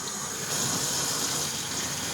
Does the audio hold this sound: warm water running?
yes